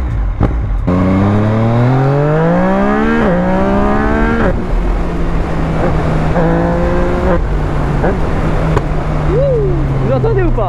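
A Yamaha MT-09 motorcycle in mode A, its most aggressive riding mode, revs hard and close, with the engine pitch climbing in repeated strong pulls and short drops between gear changes.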